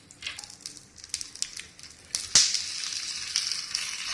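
Aloo wadi pieces fry gently over low flame, giving a soft, close sizzle and crackle with scattered small pops and one sharper spatter.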